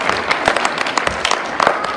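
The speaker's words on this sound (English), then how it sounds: "Y'all give them a round of applause." Audience applause for children's act at a youth talent show: a steady wash of many hands clapping throughout, close and fairly loud, with no talk over it.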